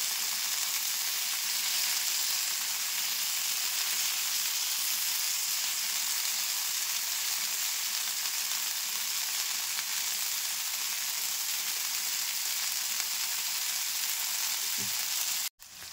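Paneer pieces, just flipped, fry on a hot tawa with a continuous even sizzle for a long stretch, ending in a brief knock near the close.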